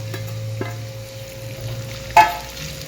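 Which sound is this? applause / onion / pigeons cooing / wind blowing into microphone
onion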